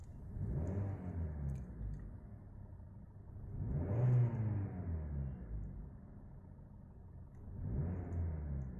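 A Maruti Dzire CNG 2022 engine revved three times from inside the cabin, each rev a smooth rising and falling hum, muffled and moderate in level with quiet gaps between.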